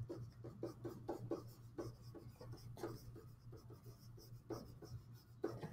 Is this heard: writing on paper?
yes